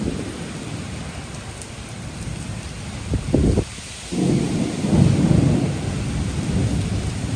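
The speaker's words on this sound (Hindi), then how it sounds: "पूरा आंधी तूफान" Heavy thunderstorm with steady rain pouring down and loud claps of thunder bursting through midway, the rumble swelling and fading over the constant hiss of the downpour.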